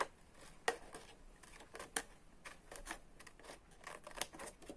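Scissors cut through a fold of fabric while a mask pouch is being made, giving a series of close, quiet, crisp snips in an irregular rhythm, with small handling rustles between them and no one speaking.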